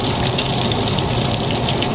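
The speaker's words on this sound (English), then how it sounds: "Just add a little bit of water to this." Water runs steadily into a nearly empty ketchup bottle in a home kitchen, a continuous close, loud gushing hiss with no pauses.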